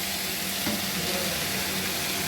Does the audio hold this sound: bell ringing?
no